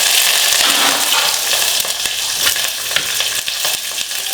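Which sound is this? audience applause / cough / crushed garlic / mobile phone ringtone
crushed garlic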